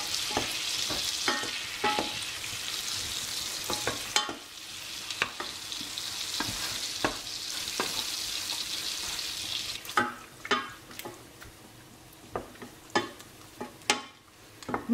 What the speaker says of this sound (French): J'ai mis donc mon beurre à fondre